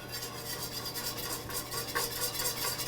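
Butter melting in a pan while being whisked, a steady soft sizzle with scraping, clinking whisk strokes close by, no voices.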